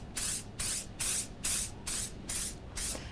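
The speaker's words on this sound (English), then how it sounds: "So now I'm going to spray it with my decoupage glue again." Decoupage glue sprayed onto a sheet of paper in seven short, evenly spaced hissing bursts, close and clear against a quiet background.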